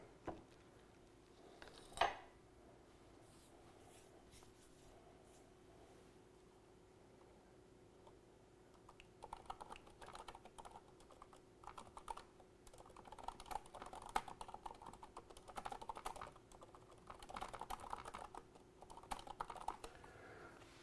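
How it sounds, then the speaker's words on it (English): Computer keyboard typing heard faintly and alone, in bursts of rapid, close key clicks over steady low background hum, with a single sharp knock near the start. "Can you guys hear me typing?"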